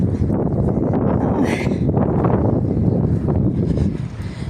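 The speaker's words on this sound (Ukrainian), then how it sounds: "Вітер." Strong wind buffets the microphone in a loud, continuous roar, with a brief higher whistle partway through.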